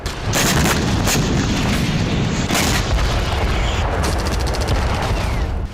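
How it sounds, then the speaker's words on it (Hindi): A loud, continuous roar of explosions and heavy booms with crackling bursts, dense and close, filling the whole clip. "अचानक तेज धमाका होता है और पूरा इलाका काले धुएं से भर जाता है"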